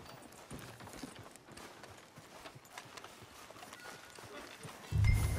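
Steady clip-clop of horse hooves walking in Red Dead Redemption 2, a soft rhythmic patter under the game's ambience, with a brief thump at the end.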